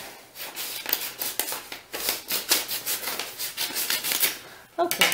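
Scissors cut through folded copy paper at close range, a run of crisp snipping and rasping strokes in quick succession, ending with a louder final snip.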